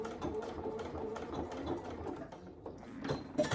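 A sewing machine back stitching at the end of a seam on a saddle bag, running steadily close up with a dense mechanical whir throughout.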